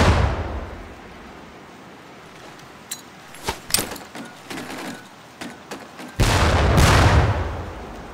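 Training grenades bursting near target barrels on a bootcamp range in Medal of Honor Pacific Assault: scattered sharp cracks and clinks, then a heavy, loud blast that rumbles and fades.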